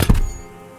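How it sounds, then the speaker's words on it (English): A rifle laid carelessly down in sand in the game Disco Elysium gives a single close, dull thunk that fades quickly into quiet room tone. "The old man lays the rifle down carelessly, then looks at it lying there"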